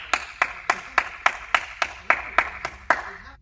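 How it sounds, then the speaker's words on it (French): Small group of parents and children at home clapping for themselves, eleven evenly spaced sharp claps in steady rhythm, close and fairly loud with no talk over them. "Et je pense qu'on peut s'applaudir bien fort."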